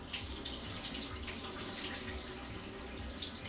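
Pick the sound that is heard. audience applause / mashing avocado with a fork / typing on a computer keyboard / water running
water running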